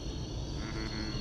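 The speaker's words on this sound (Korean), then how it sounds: "개구리 울음소리 들으니까 참" Bullfrog croaking at a small fishing reservoir in Gyeongsan, a low, steady drone heard against continuous outdoor ambience with no speech.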